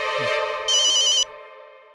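A telephone rings with a bright electronic tone, one louder trill in the middle, over a steady hum, no voices.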